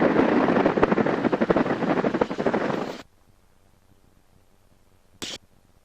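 A Pratt & Whitney R1340 radial engine aircraft taxiing gives a loud, rough, pulsing drone for about three seconds before cutting off abruptly, followed by near silence and one brief faint noise burst.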